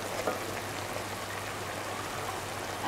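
A ladle of broth is poured over lamb and okra in a tagine, giving a steady, close, even wash of hissing, splashing liquid throughout without any speech.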